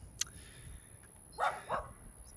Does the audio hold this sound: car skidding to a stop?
no